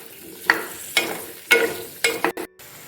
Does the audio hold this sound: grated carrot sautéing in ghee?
yes